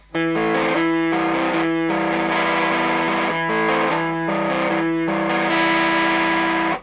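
Distorted electric guitar strumming chords from Foo Fighters' "Outside" on a crunch channel, pickup switched for a warmer mid-gain tone, steady and loud with brief gaps between chord changes.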